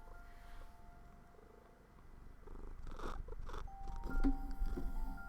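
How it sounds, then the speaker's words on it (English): Kitty, a pet cat, purrs close to the microphone in a soft, low, continuous rumble, with some rustling as the cat brushes near the mic, growing slightly louder toward the end. "Are you purring?"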